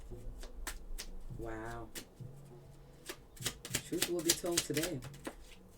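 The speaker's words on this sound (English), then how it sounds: "Keep shuffling." Tarot cards being shuffled during a psychic reading, a series of quick crisp riffles and soft slaps near the microphone, with a voice speaking between them.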